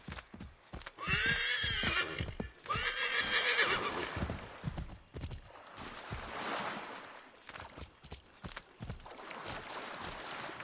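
Horses in Assassin's Creed 3 whinny loudly twice near the start, followed by rapid hoofbeats galloping close by, with fainter hoof clatter continuing to the end.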